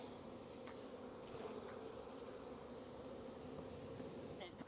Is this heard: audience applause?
no